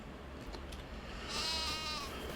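A sheep in a farming video game lets out a single drawn-out bleat over a steady, faint background hum.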